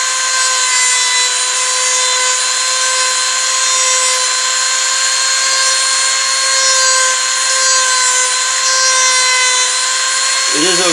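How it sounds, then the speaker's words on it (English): A power grinder works down a pipe, likely PVC, to a drawn line for a bow limb, a loud, steady high whine holding for about eleven seconds with a short tonal blip near the end. "then just grind it down to the line that you drew on the pipe."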